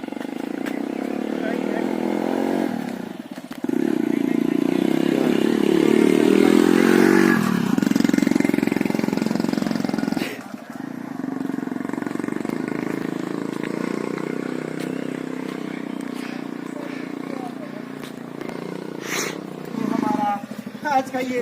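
A TVS Radeon motorcycle engine starts and settles into a steady, loud, close idle, with a voice talking over it.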